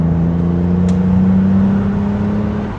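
A V12 BMW E31 850i accelerates briskly, its engine pulling in a steady loud drone from inside the car, with the pitch holding and then easing slightly.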